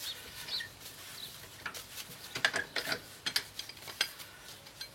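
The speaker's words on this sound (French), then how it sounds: "Je vais continuer à démonter mes écrous de roue." Wheel nuts being removed from a car during a brake pad check: close, irregular metallic ratchet clicks and clinks in short bursts, with small taps and scrapes between them.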